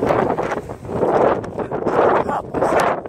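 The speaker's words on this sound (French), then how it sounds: "le vent commence à s'élever" Wind gusts outdoors, rising and falling in broad surging waves of rough noise that buffet the microphone over a few seconds, with no talk.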